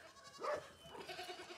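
A goat at an animal shelter gives a single faint bleat near the middle, set against a low background hum and scattered noises.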